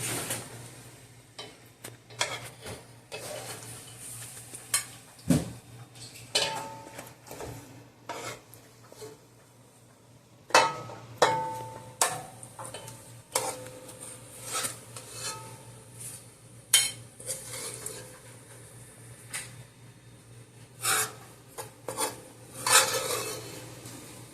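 Karahi being served from the cooking pot, a metal spoon scraping and clinking against the pot in irregular bursts with soft rubbing between strokes, close and fairly quiet, with no talking.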